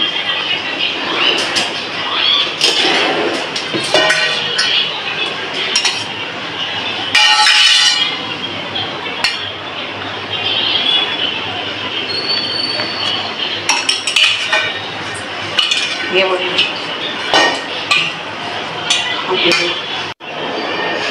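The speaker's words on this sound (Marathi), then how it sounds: "मी स्टीमर इथं गरम करायला ठेवलं आहे आणि स्टीमरची चाळणी त्याला ऑइल लावून घ्यायचं" A metal steamer and its sieve clatter and clink while being set up and oiled for steaming aloo vadi rolls, with repeated sharp metallic knocks and scrapes throughout, close and busy.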